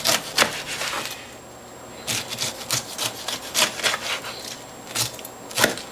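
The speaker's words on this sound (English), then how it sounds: "So we'll peel the sides off." A knife slicing the skin off the sides of a whole pineapple, heard as repeated close, scraping rubs and rasping cuts in uneven strokes with brief pauses between them.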